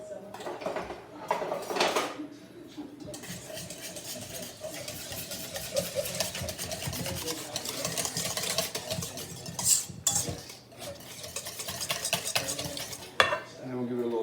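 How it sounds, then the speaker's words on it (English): Sauce for bang bang chicken is stirred in a bowl, the spoon scraping and clinking in an irregular, continuous rhythm, close up, with a few sharper knocks against the dish. "we're going to give this a good mix"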